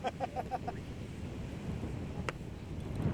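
Strong wind gusts across an outdoor disc golf course during a tournament round, a steady rushing roar at the microphone with a few faint knocks early on.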